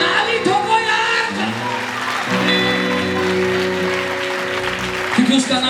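A church congregation claps during a Hindi-language sermon, a steady wash of applause running under a preacher's loud voice and sustained musical tones.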